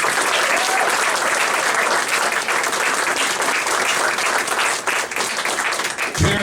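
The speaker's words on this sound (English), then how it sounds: "I think they deserve a round of applause for that." Sustained applause from an audience at a St. Nicholas church school Yolka holiday event, dense and steady for several seconds with a brief louder thump near the end.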